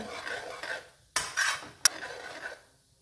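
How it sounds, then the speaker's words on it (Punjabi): A spoon stirs semolina halwa in a pan over a low flame, making soft scraping strokes and a couple of sharp metallic knocks before it fades out. "ਇਹਨੂੰ ਆਪਾਂ ਹਿਲਾਉਂਦੇ ਜਾਵਾਂਗੇ ਬਿਲਕੁਲ ਵੀ ਨਹੀਂ ਛੱਡਣਾ ਹੈਗਾ"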